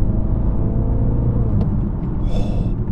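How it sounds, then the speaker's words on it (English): Mini JCW Countryman pulling hard in third gear, a loud, steady engine rumble and whir close up inside the cabin, with a brief sharp shift blip partway through and rising revs near the end. "Listen to how fast these gear changes are, okay?"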